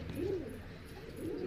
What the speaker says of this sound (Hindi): बहुत अच्छा कबूतर है ये